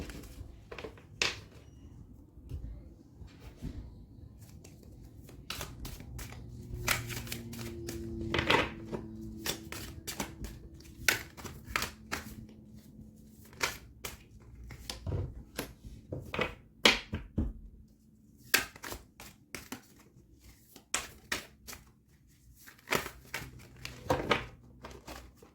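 Tarot cards shuffled by hand in a long, irregular run of soft rustles, slaps and crinkly bursts, close and quiet, with no talk.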